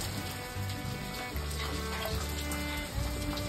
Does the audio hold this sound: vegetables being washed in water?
yes